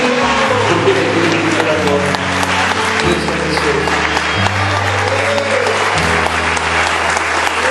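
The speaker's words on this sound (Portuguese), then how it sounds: "Glorifica o Senhor, aplauda o Senhor," A church congregation applauds during a worship service, steady broadband clapping filling the whole span beneath an organ or keyboard playing sustained chords, with a voice speaking over the applause.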